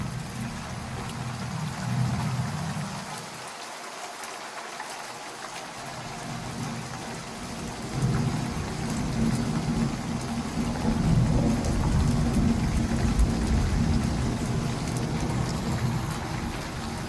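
A game's rain and thunder ambience plays as steady, loud rainfall throughout with low rolling thunder rumbles swelling in the background, briefly dipping near the start before building again.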